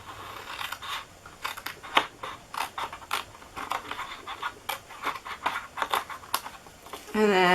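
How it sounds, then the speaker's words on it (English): Scissors snip through the cardboard of a homemade Christmas treat box, cutting a rectangle from one side in a quick series of close, crisp cuts with short pauses between them. "You're going to just cut this rectangle right here off."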